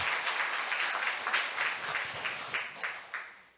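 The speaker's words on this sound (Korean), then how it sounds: "우리 하나님께 큰 영광의 박수 한번 드리겠습니다." A church congregation at a Sunday worship service in Seoul applauds together, a dense, steady wave of clapping in the sanctuary with rhythmic pulses that gradually tapers off.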